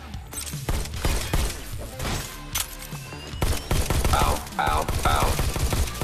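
Shotguns blast repeatedly in the VR shooter Robo Recall, a rapid string of loud, close booms with crashing impacts between them, while a voice briefly cries out.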